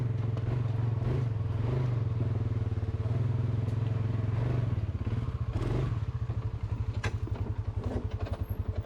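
A 2023 Polaris Sportsman 570 ATV rides a rough ORV park trail at Holly Oaks, its engine droning steadily and loudly up close, then pulsing unevenly as the throttle eases near the end.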